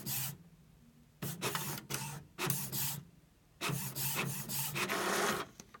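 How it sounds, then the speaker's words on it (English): A home printer runs through a page, with several loud bursts of mechanical rasping and feeding noise separated by short quiet pauses. "Okay, it's printing."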